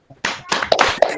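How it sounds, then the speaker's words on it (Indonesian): A group in an Indonesian peer-teaching class claps the "tepuk semangat" cheer, giving quick bursts of hand claps in a short rhythmic pattern. The claps are close and fairly loud. "Yuk kita lakukan tepuk semangat."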